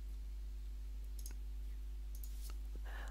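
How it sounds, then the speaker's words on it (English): Computer keyboard typing while entering a pip install command for a Python library in a notebook, a few scattered light clicks and short bursts under a steady low hum, fairly quiet and close. "in here, I'm just typing"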